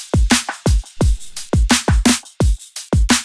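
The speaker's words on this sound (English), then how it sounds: "we have a new drum rhythm here that's being layered with this and a crash" A punchy drum pattern with deep kick hits and sharp snare strikes in a steady rhythm, washed with bright crashing cymbal noise, loud and up close.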